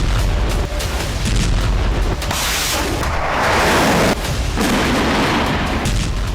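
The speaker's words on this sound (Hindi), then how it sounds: "रूसी फौज आसमान से घातक बमबारी कर रही है।" Artillery fire and bombardment in the war in Ukraine, heavy booming blasts and rumbling detonations that come in repeated waves, loud and close, with a long roaring stretch between sharper impacts.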